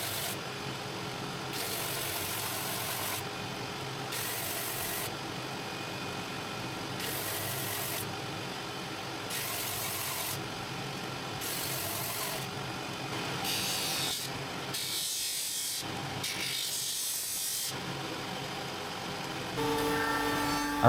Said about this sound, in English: It's quick and efficient when you can use a belt sander.